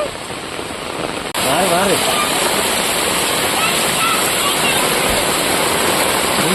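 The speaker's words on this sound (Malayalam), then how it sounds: "ഭയങ്കര മഴ പെയ്തോണ്ടിരിക്കുകയാണ്" Heavy rain pours over a flooded plot, a loud, steady broadband hiss that surges in after a brief quieter moment and then continues unbroken to the end.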